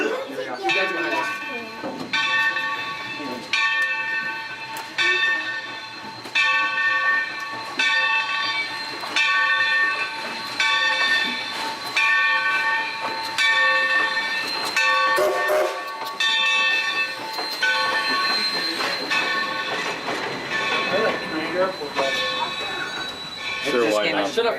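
Valley Railroad 3025 excursion train passing, a steady metallic ringing bell-like tone repeating in a regular rhythm, with people chatting nearby and the noise of a moving crowd.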